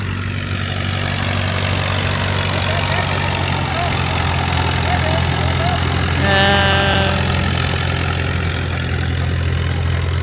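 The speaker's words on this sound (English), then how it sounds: "they are packing up the jet skis and the boats" Several jet ski engines idle in a steady, loud rumble with a constant hum on Kamala beach, Phuket, at sunset. A brief whining tone rises over it partway through. Faint voices sit underneath.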